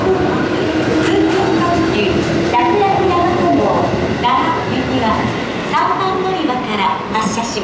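A JR commuter limited express at Shin-Osaka station during the evening rush, heard as continuous rolling rail noise under busy platform chatter and announcements, steady and fairly loud throughout.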